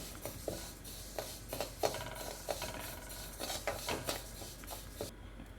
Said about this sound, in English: That means it's roasting very nicely